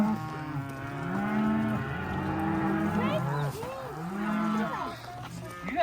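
Cows in a corral low repeatedly: several drawn-out moos overlap, some rising and falling in pitch, fairly close and loud against an outdoor background.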